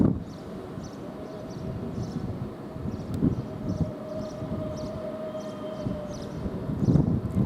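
Southeastern high-speed train departing Ramsgate station on its service to London St Pancras, a steady rumbling drone with a sustained tonal whine and periodic clatter, moderately loud throughout and swelling toward the end.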